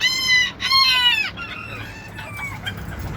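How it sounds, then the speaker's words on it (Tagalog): A Bantam hen that has just gone broody gives a few close, harmonic clucking calls, the first two strong and drawn out, then trails off into fainter, wavering vocal tones over a quiet background. "Pakita ko lang sa inyo bago naglilimlim nating inahin"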